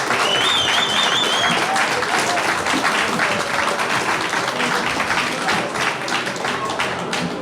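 A full hall of audience members bursts into continuous, dense applause, loud and close throughout without a break.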